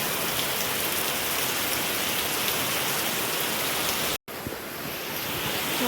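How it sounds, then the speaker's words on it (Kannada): Heavy rain on a Sunday morning pours in a steady, dense hiss throughout, broken by a brief dropout of silence before the downpour resumes. "ಸುಮಾರು ದಿನ ಆಮೇಲೆ ಜೋರು ಮಳೆ ಬರ್ತಾ ಉಂಟು."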